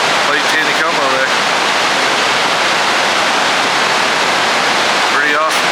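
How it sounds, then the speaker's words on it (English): Massive volume of water roaring through the open gates of Table Rock Lake Dam into Lake Taneycomo, a loud steady rush throughout with brief bird chirps at the start and end. "Still pouring tons of water into Lake Taneycomo there."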